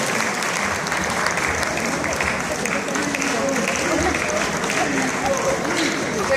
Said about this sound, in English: Big round of applause for the martial arts winners.